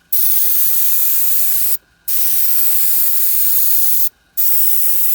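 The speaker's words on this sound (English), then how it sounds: "So that'll get that all sprayed onto the seat" A spray gun lays a coat of paint onto a leather car seat in a Volvo interior restoration: loud, close bursts of hissing spray, three in a row separated by brief pauses, with no talking.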